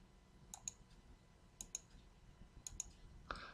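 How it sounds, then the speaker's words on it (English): A computer mouse clicking close by in a quiet room: three crisp double-clicks spaced about a second apart, then one sharper single click. "I always keep clicking the wrong thing here."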